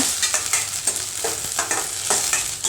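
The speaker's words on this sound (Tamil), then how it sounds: "திராட்சை கருப்பு திராட்சை வெள்ளை திராட்சை எல்லாமே சேர்த்து நம்ம வறுத்துக்கலாம் நெய்யில் நல்லா ப்ரௌனாக ரோஸ்ட் பண்ணி எடுத்துக்கலாங்க" Black and white raisins roast in hot ghee in a pan, a close steady sizzle broken by repeated stirring scrapes.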